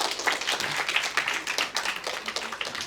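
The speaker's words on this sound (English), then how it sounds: "Big round of applause to him." Audience applause for a student in a talk setting, a steady wash of clapping with distinct individual claps throughout, moderately loud, no speech over it.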